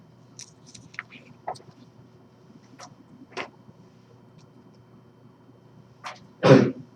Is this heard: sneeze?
yes